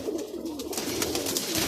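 A golden pigeon coos softly and steadily at close range, a low throaty murmur that continues for under two seconds with no voices present.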